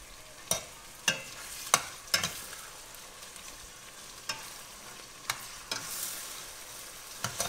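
Octopus cooking in a pot for a fishermen's stew, heard as a low bubbling simmer with about a dozen sharp clacks and clatters spaced through it, close and fairly quiet, with no talking.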